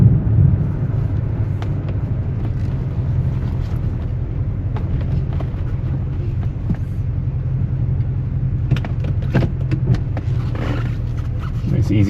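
A 1972 Cadillac Eldorado with a 500 cubic inch V8 rumbles low and steady at slow speed through a turnaround, with a few faint clicks and rustles late on.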